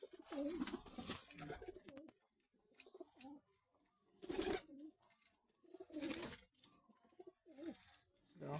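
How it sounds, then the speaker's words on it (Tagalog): Pigeons coo in bursts inside a loft, soft throaty calls rising and falling at close range between brief quiet gaps. "Yan sila mga kalapatids."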